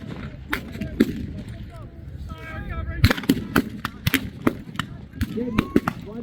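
Scattered blank gunfire cracks, some in quick clusters, ring out at a military vehicle show battle reenactment with a tank in a village, mixed with voices and outdoor crowd noise.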